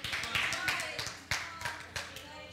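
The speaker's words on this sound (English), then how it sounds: "I got clapping in front of the church." Hands clapping in front of a church during a sermon, a handful of sharp claps spread irregularly over a couple of seconds, fairly close.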